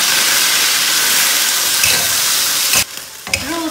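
Meat stir-fried in a hot pan with oil and aromatics as part of a noodle dish, a loud steady sizzle with stirring scrapes that cuts off sharply near the end, leaving quieter crackling.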